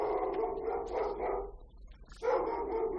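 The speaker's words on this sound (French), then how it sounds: "Il a l'habitude d'aboyer pour rien, votre chien?" A dog barks twice indoors. A run of close, fairly loud yaps is followed by a short pause and then another bark, with no talking.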